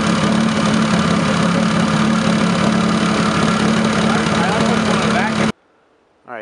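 A Mazda MX6 V6 turbo engine idles loudly and close up with a steady low rumble. It cuts off abruptly near the end, and a brief sound returns afterward.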